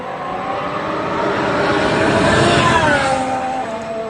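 A Formula 1 car runs on track at Silverstone, its engine sounding as a steady high-pitched whine that swells and shifts pitch as it passes at moderate distance.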